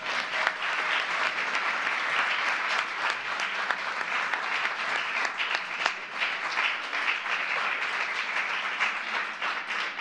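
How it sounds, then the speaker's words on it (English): A crowd at a presidential event on confirming federal judges applauds a group of senators, a sustained, dense wash of clapping from many hands that holds at an even, fairly loud level throughout. "They deserve a round of applause."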